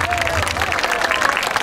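Sustained audience applause fills a school year-end celebration hall after teachers receive certificates of thanks, dense and steady with a murmuring crowd beneath.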